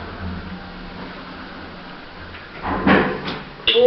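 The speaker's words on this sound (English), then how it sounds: "Doors opening." Lift doors slide open in a shopping centre at Gunwharf Quays, Portsmouth, a rising mechanical rumble and sweep building near the end after a quiet hum, with a sharp clunk at the close.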